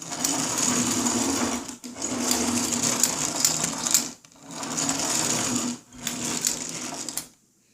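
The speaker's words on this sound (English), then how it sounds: "when it moves around, you'll hear a very noticeable click, clunk inside of it" Mechanical clicking and clunking with a steady whirring drive from a Lionel 2026 model train locomotive, running in three bursts separated by brief pauses, close and fairly loud.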